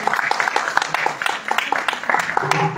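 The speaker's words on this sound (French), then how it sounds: "S'il vous plaît, encore des applaudissements." Audience at a ceremonial gathering claps in a loose, uneven rhythm after a speech, distinct hand claps popping out near and clear over a steady mid-level patter for a few seconds.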